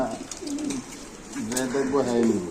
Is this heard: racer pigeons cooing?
yes